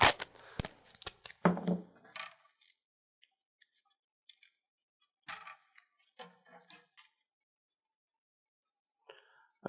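Tape being handled on a fishing rod foregrip during an EVA grip dry fit, with a burst of crinkly rustles and tearing at first, then sparse small clicks and scratchy handling noises amid near silence.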